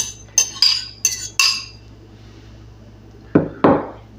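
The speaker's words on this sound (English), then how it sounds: "We're going to mix as well as we can with a fork." Fork scrapes and clinks against a bowl while bloomed yeast is stirred into flour for calzone dough: four sharp, bright metallic taps in quick succession, a short pause, then two heavier knocks, close and alone.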